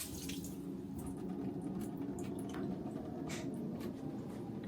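Shower water runs steadily in a Tokyo hotel bathroom fitted with a handheld shower and a ceiling rain shower head, a soft continuous hiss at good pressure with a few faint knocks and splashes.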